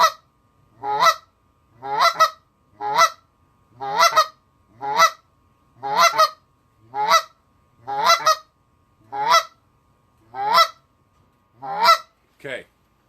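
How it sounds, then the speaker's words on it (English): A goose call blown in a cluck rhythm gives a steady series of about a dozen short, sharp two-note honks, loud and close, spaced roughly a second apart with no talking. "Okay, that's a cluck."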